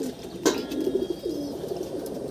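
A male pigeon gives a close, throaty coo, rising then rolling into a drawn-out burbling call, preceded by a brief sharp rustle.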